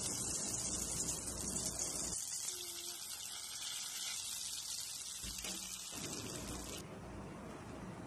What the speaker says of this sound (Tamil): கொஞ்சமாக எடுத்து வடை மாதிரி தட்டி எண்ணெயில் போட்டுடலாம்.